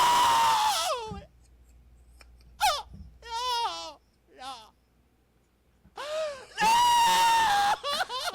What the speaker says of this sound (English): Oh, you're doing a scream.